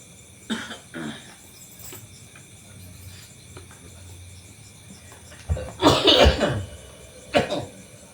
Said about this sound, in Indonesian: batuk banyak nih